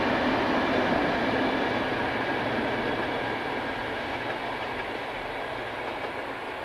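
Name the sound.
train passing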